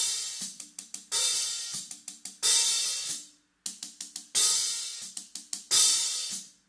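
Drumsticks tapping a hi-hat in quick bursts, each phrase ending with a longer open wash that fades, repeated in a steady pattern.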